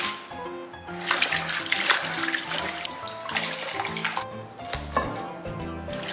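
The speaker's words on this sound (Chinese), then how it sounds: "菜花切好了，把它洗干净" Cut cauliflower florets are rinsed under running tap water in a kitchen sink, a continuous close splashing with bursts of water hitting the vegetables and basin.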